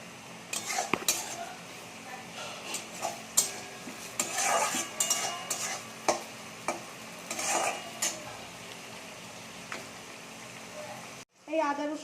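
Tomato being stirred into onions already frying in a pan for a Bengali-style chicken dish, with repeated clinks and scrapes of a utensil against the pot over a soft sizzle, ending in a brief louder burst.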